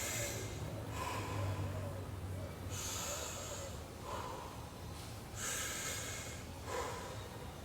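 Heavy breathing during a standing stretch with one leg stepped forward and the body leaning back, heard as repeated loud snorting inhales and exhales in a steady rhythm over a noisy background.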